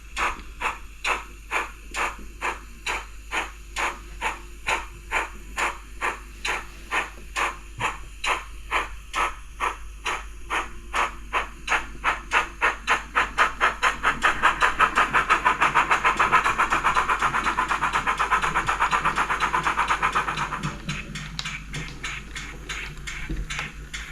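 A Rapido GWR 44xx model steam locomotive with DCC sound chuffs rhythmically, the puffs quickening and blending into a louder rushing hiss before easing off.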